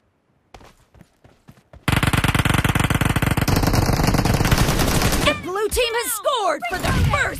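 PUBG video game gunfire begins with a few sparse single shots, then breaks into a long, loud, rapid automatic burst, followed by more bursts mixed with excited shouting voices.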